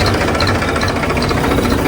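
A newly bought tractor's engine runs close and loud, a dense, steady rattling drone with a knocking, vibrating texture that stays even throughout.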